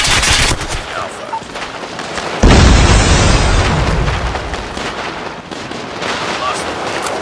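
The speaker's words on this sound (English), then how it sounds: "Enemy airstrike incoming." An airstrike in the mobile shooter Call of Duty Mobile hits with loud, sustained booming blasts and heavy rumbling. Rapid gunfire crackles over it, and game voice lines come through underneath.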